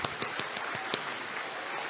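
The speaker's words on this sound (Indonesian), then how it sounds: "boleh tepuk tangan dong." Scattered applause from a lecture audience at an academic oration, a handful of separate claps spread over two seconds, fairly faint and thin rather than a full ovation.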